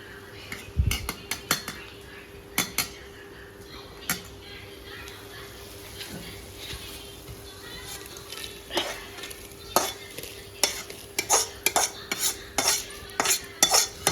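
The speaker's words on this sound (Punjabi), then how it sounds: "ਇੱਧਰ ਆਪਾਂ ਲਾ ਲੈਣੇ ਤੜਕਾ ਪਾ ਦੇਣੇ ਇਹਦੇ ਵਿੱਚ" Tempering being poured into Punjabi kadhi and stirred, with scattered metal spoon clinks and scrapes against the pot over a faint low sizzle, the clinks growing busier toward the end.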